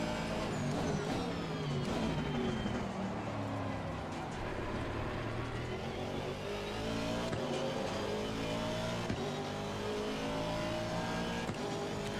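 An Aston Martin AMR V8 GT3 racing car laps Suzuka in a racing video game, its engine revving up and down through gears with rising and falling pitch, steady and prominent throughout.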